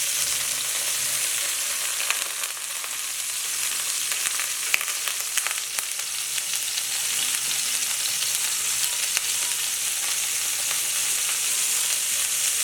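Chicken shashlik sticks frying in a pan, giving a loud, dense, continuous sizzle that holds steady throughout with a few faint clicks, and no voices over it.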